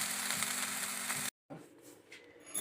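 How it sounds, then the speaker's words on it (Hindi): Chicken frying in a pan gives a close, steady sizzle for just over a second before cutting off, followed by a quieter, sparser crackle. "चिकन फ्राई हो रहा है"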